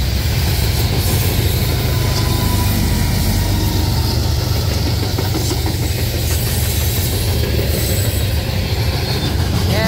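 A CSX freight train with a distributed-power locomotive rolls past a crossing, its loud, steady roar of wheels and rail cars filling the whole stretch with continuous rumble and faint wheel squeal.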